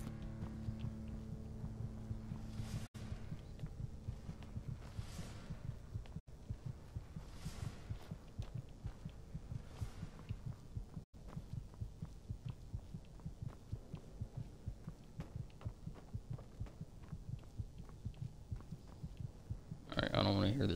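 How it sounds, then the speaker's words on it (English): A heartbeat in the video game Skyrim, heard as a steady, rapid thumping pulse of low throbs that keeps going throughout. It is faint and sits under a low background hum. "I don't want to hear this heartbeat"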